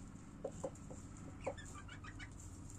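Chickens clucking softly while being fed bits of sausage, a handful of short scattered clucks over a low background murmur, fairly faint and without talk.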